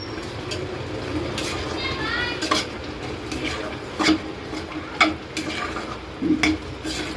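A spoon stirs beetroot halwa in a pan after cardamom powder goes in, with a low simmering bubble and several clinking scrapes against the metal while a person talks over it.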